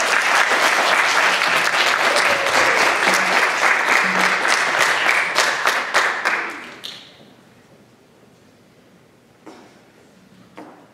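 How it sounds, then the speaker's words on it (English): Audience applause for students at a high school awards day ceremony, dense and loud clapping from a sizable crowd that tapers off and fades to near silence, followed by a few scattered claps. "Please give these students a round of applause."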